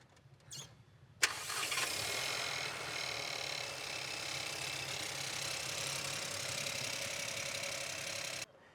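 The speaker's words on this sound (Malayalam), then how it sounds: "നമ്മളൊരു എഞ്ചിൻ്റെ ശബ്ദം കേട്ടോ, ആ ഒരു കിരികിരി ശബ്ദം" A 1.0 TSI direct-injection petrol engine in a VW Virtus or Skoda Slavia idles steadily at close range, a continuous even drone with fine ticking texture, starting abruptly after a short click and cutting off at the end, no talk.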